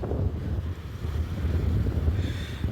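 Steady wind gusting at the seashore by Kanyakumari near a boating area, a continuous low rumbling roar with buffeting on the microphone throughout, no voices.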